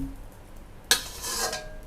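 Rice is stir-fried in a pan with shrimp paste and cha-om. After a quiet start, a sharp metallic scrape of utensil on pan breaks in and turns into a brief burst of sizzling and stirring.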